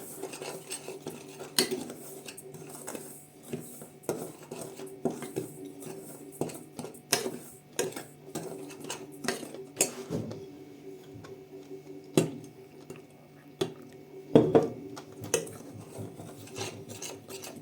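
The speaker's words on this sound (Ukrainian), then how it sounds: "Тепер розмішуємо, щоб не було грудочок, а потім долємо більше." A spoon stirs a sugary mixture in a bowl to break up lumps, giving repeated close scraping and clinking strokes in an irregular rhythm.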